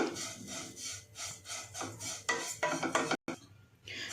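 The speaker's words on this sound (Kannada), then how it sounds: "ಇದ್ರ ಜೊತೆನೆ ಬಿಳಿ ಎಳ್ಳನ್ನ ತಗೊಂಡಿದ್ದೀನಿ 2 ಸ್ಪೂನು. ಕೆಂಪಗಾಗೋವರೆಗೂ ಫ್ರೈ ಮಾಡ್ಕೋಬೇಕು." Two spoons of white sesame seeds are dry-roasted in a pan alongside grated dry coconut, giving a steady rhythm of close dry scraping and rubbing strokes that briefly cuts out, then returns as a brighter hiss.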